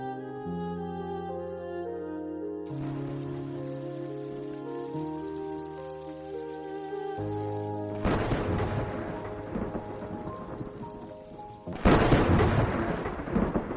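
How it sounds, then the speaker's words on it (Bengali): Cartoon thunderstorm with heavy rain: gentle music plays first, then a loud wash of rain and thunder crashes in, swelling into a second, sharper thunderclap near the end. "প্রবল ঝড় বৃষ্টিতে মহেশ বেরিয়ে পড়ল গ্রামের ডাক্তারখানায়।"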